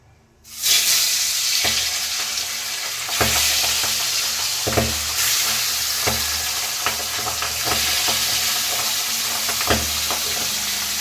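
Loud, continuous sizzling of fish frying in oil, with regular scraping and knocking from stirring in the pan.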